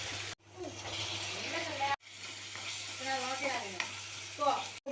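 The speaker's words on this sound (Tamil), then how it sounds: "இப்போ இது கூட தக்காளி சேர்த்துக்கலாம்." Onion, ginger, garlic and tomato frying in a pan for chicken curry, a steady close sizzle with a spatula scraping and stirring through it, a couple of brief dropouts, and a low hum underneath.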